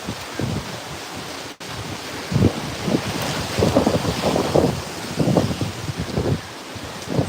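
Strong gusts before Hurricane Milton roar across an outdoor microphone in rising and falling surges, one brief dropout in the middle, with no talking.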